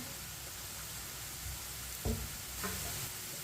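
Two ingredients browning in a pan over medium heat for a white chana curry give a steady soft sizzle throughout, with a couple of brief clinks of a stirring spoon against the pan.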